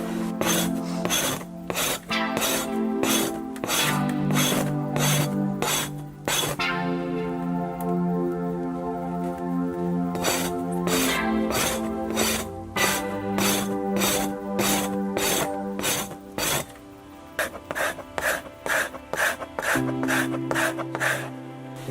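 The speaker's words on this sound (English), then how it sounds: "I'm kind of doing it in two parts, scraping off the longer hair that was still on, and then scraping off the grain and or the epidermis." A moose hide is scraped to remove hair and grain, with brisk rhythmic rasping strokes repeated steadily, close and fairly loud, and a few short pauses between runs.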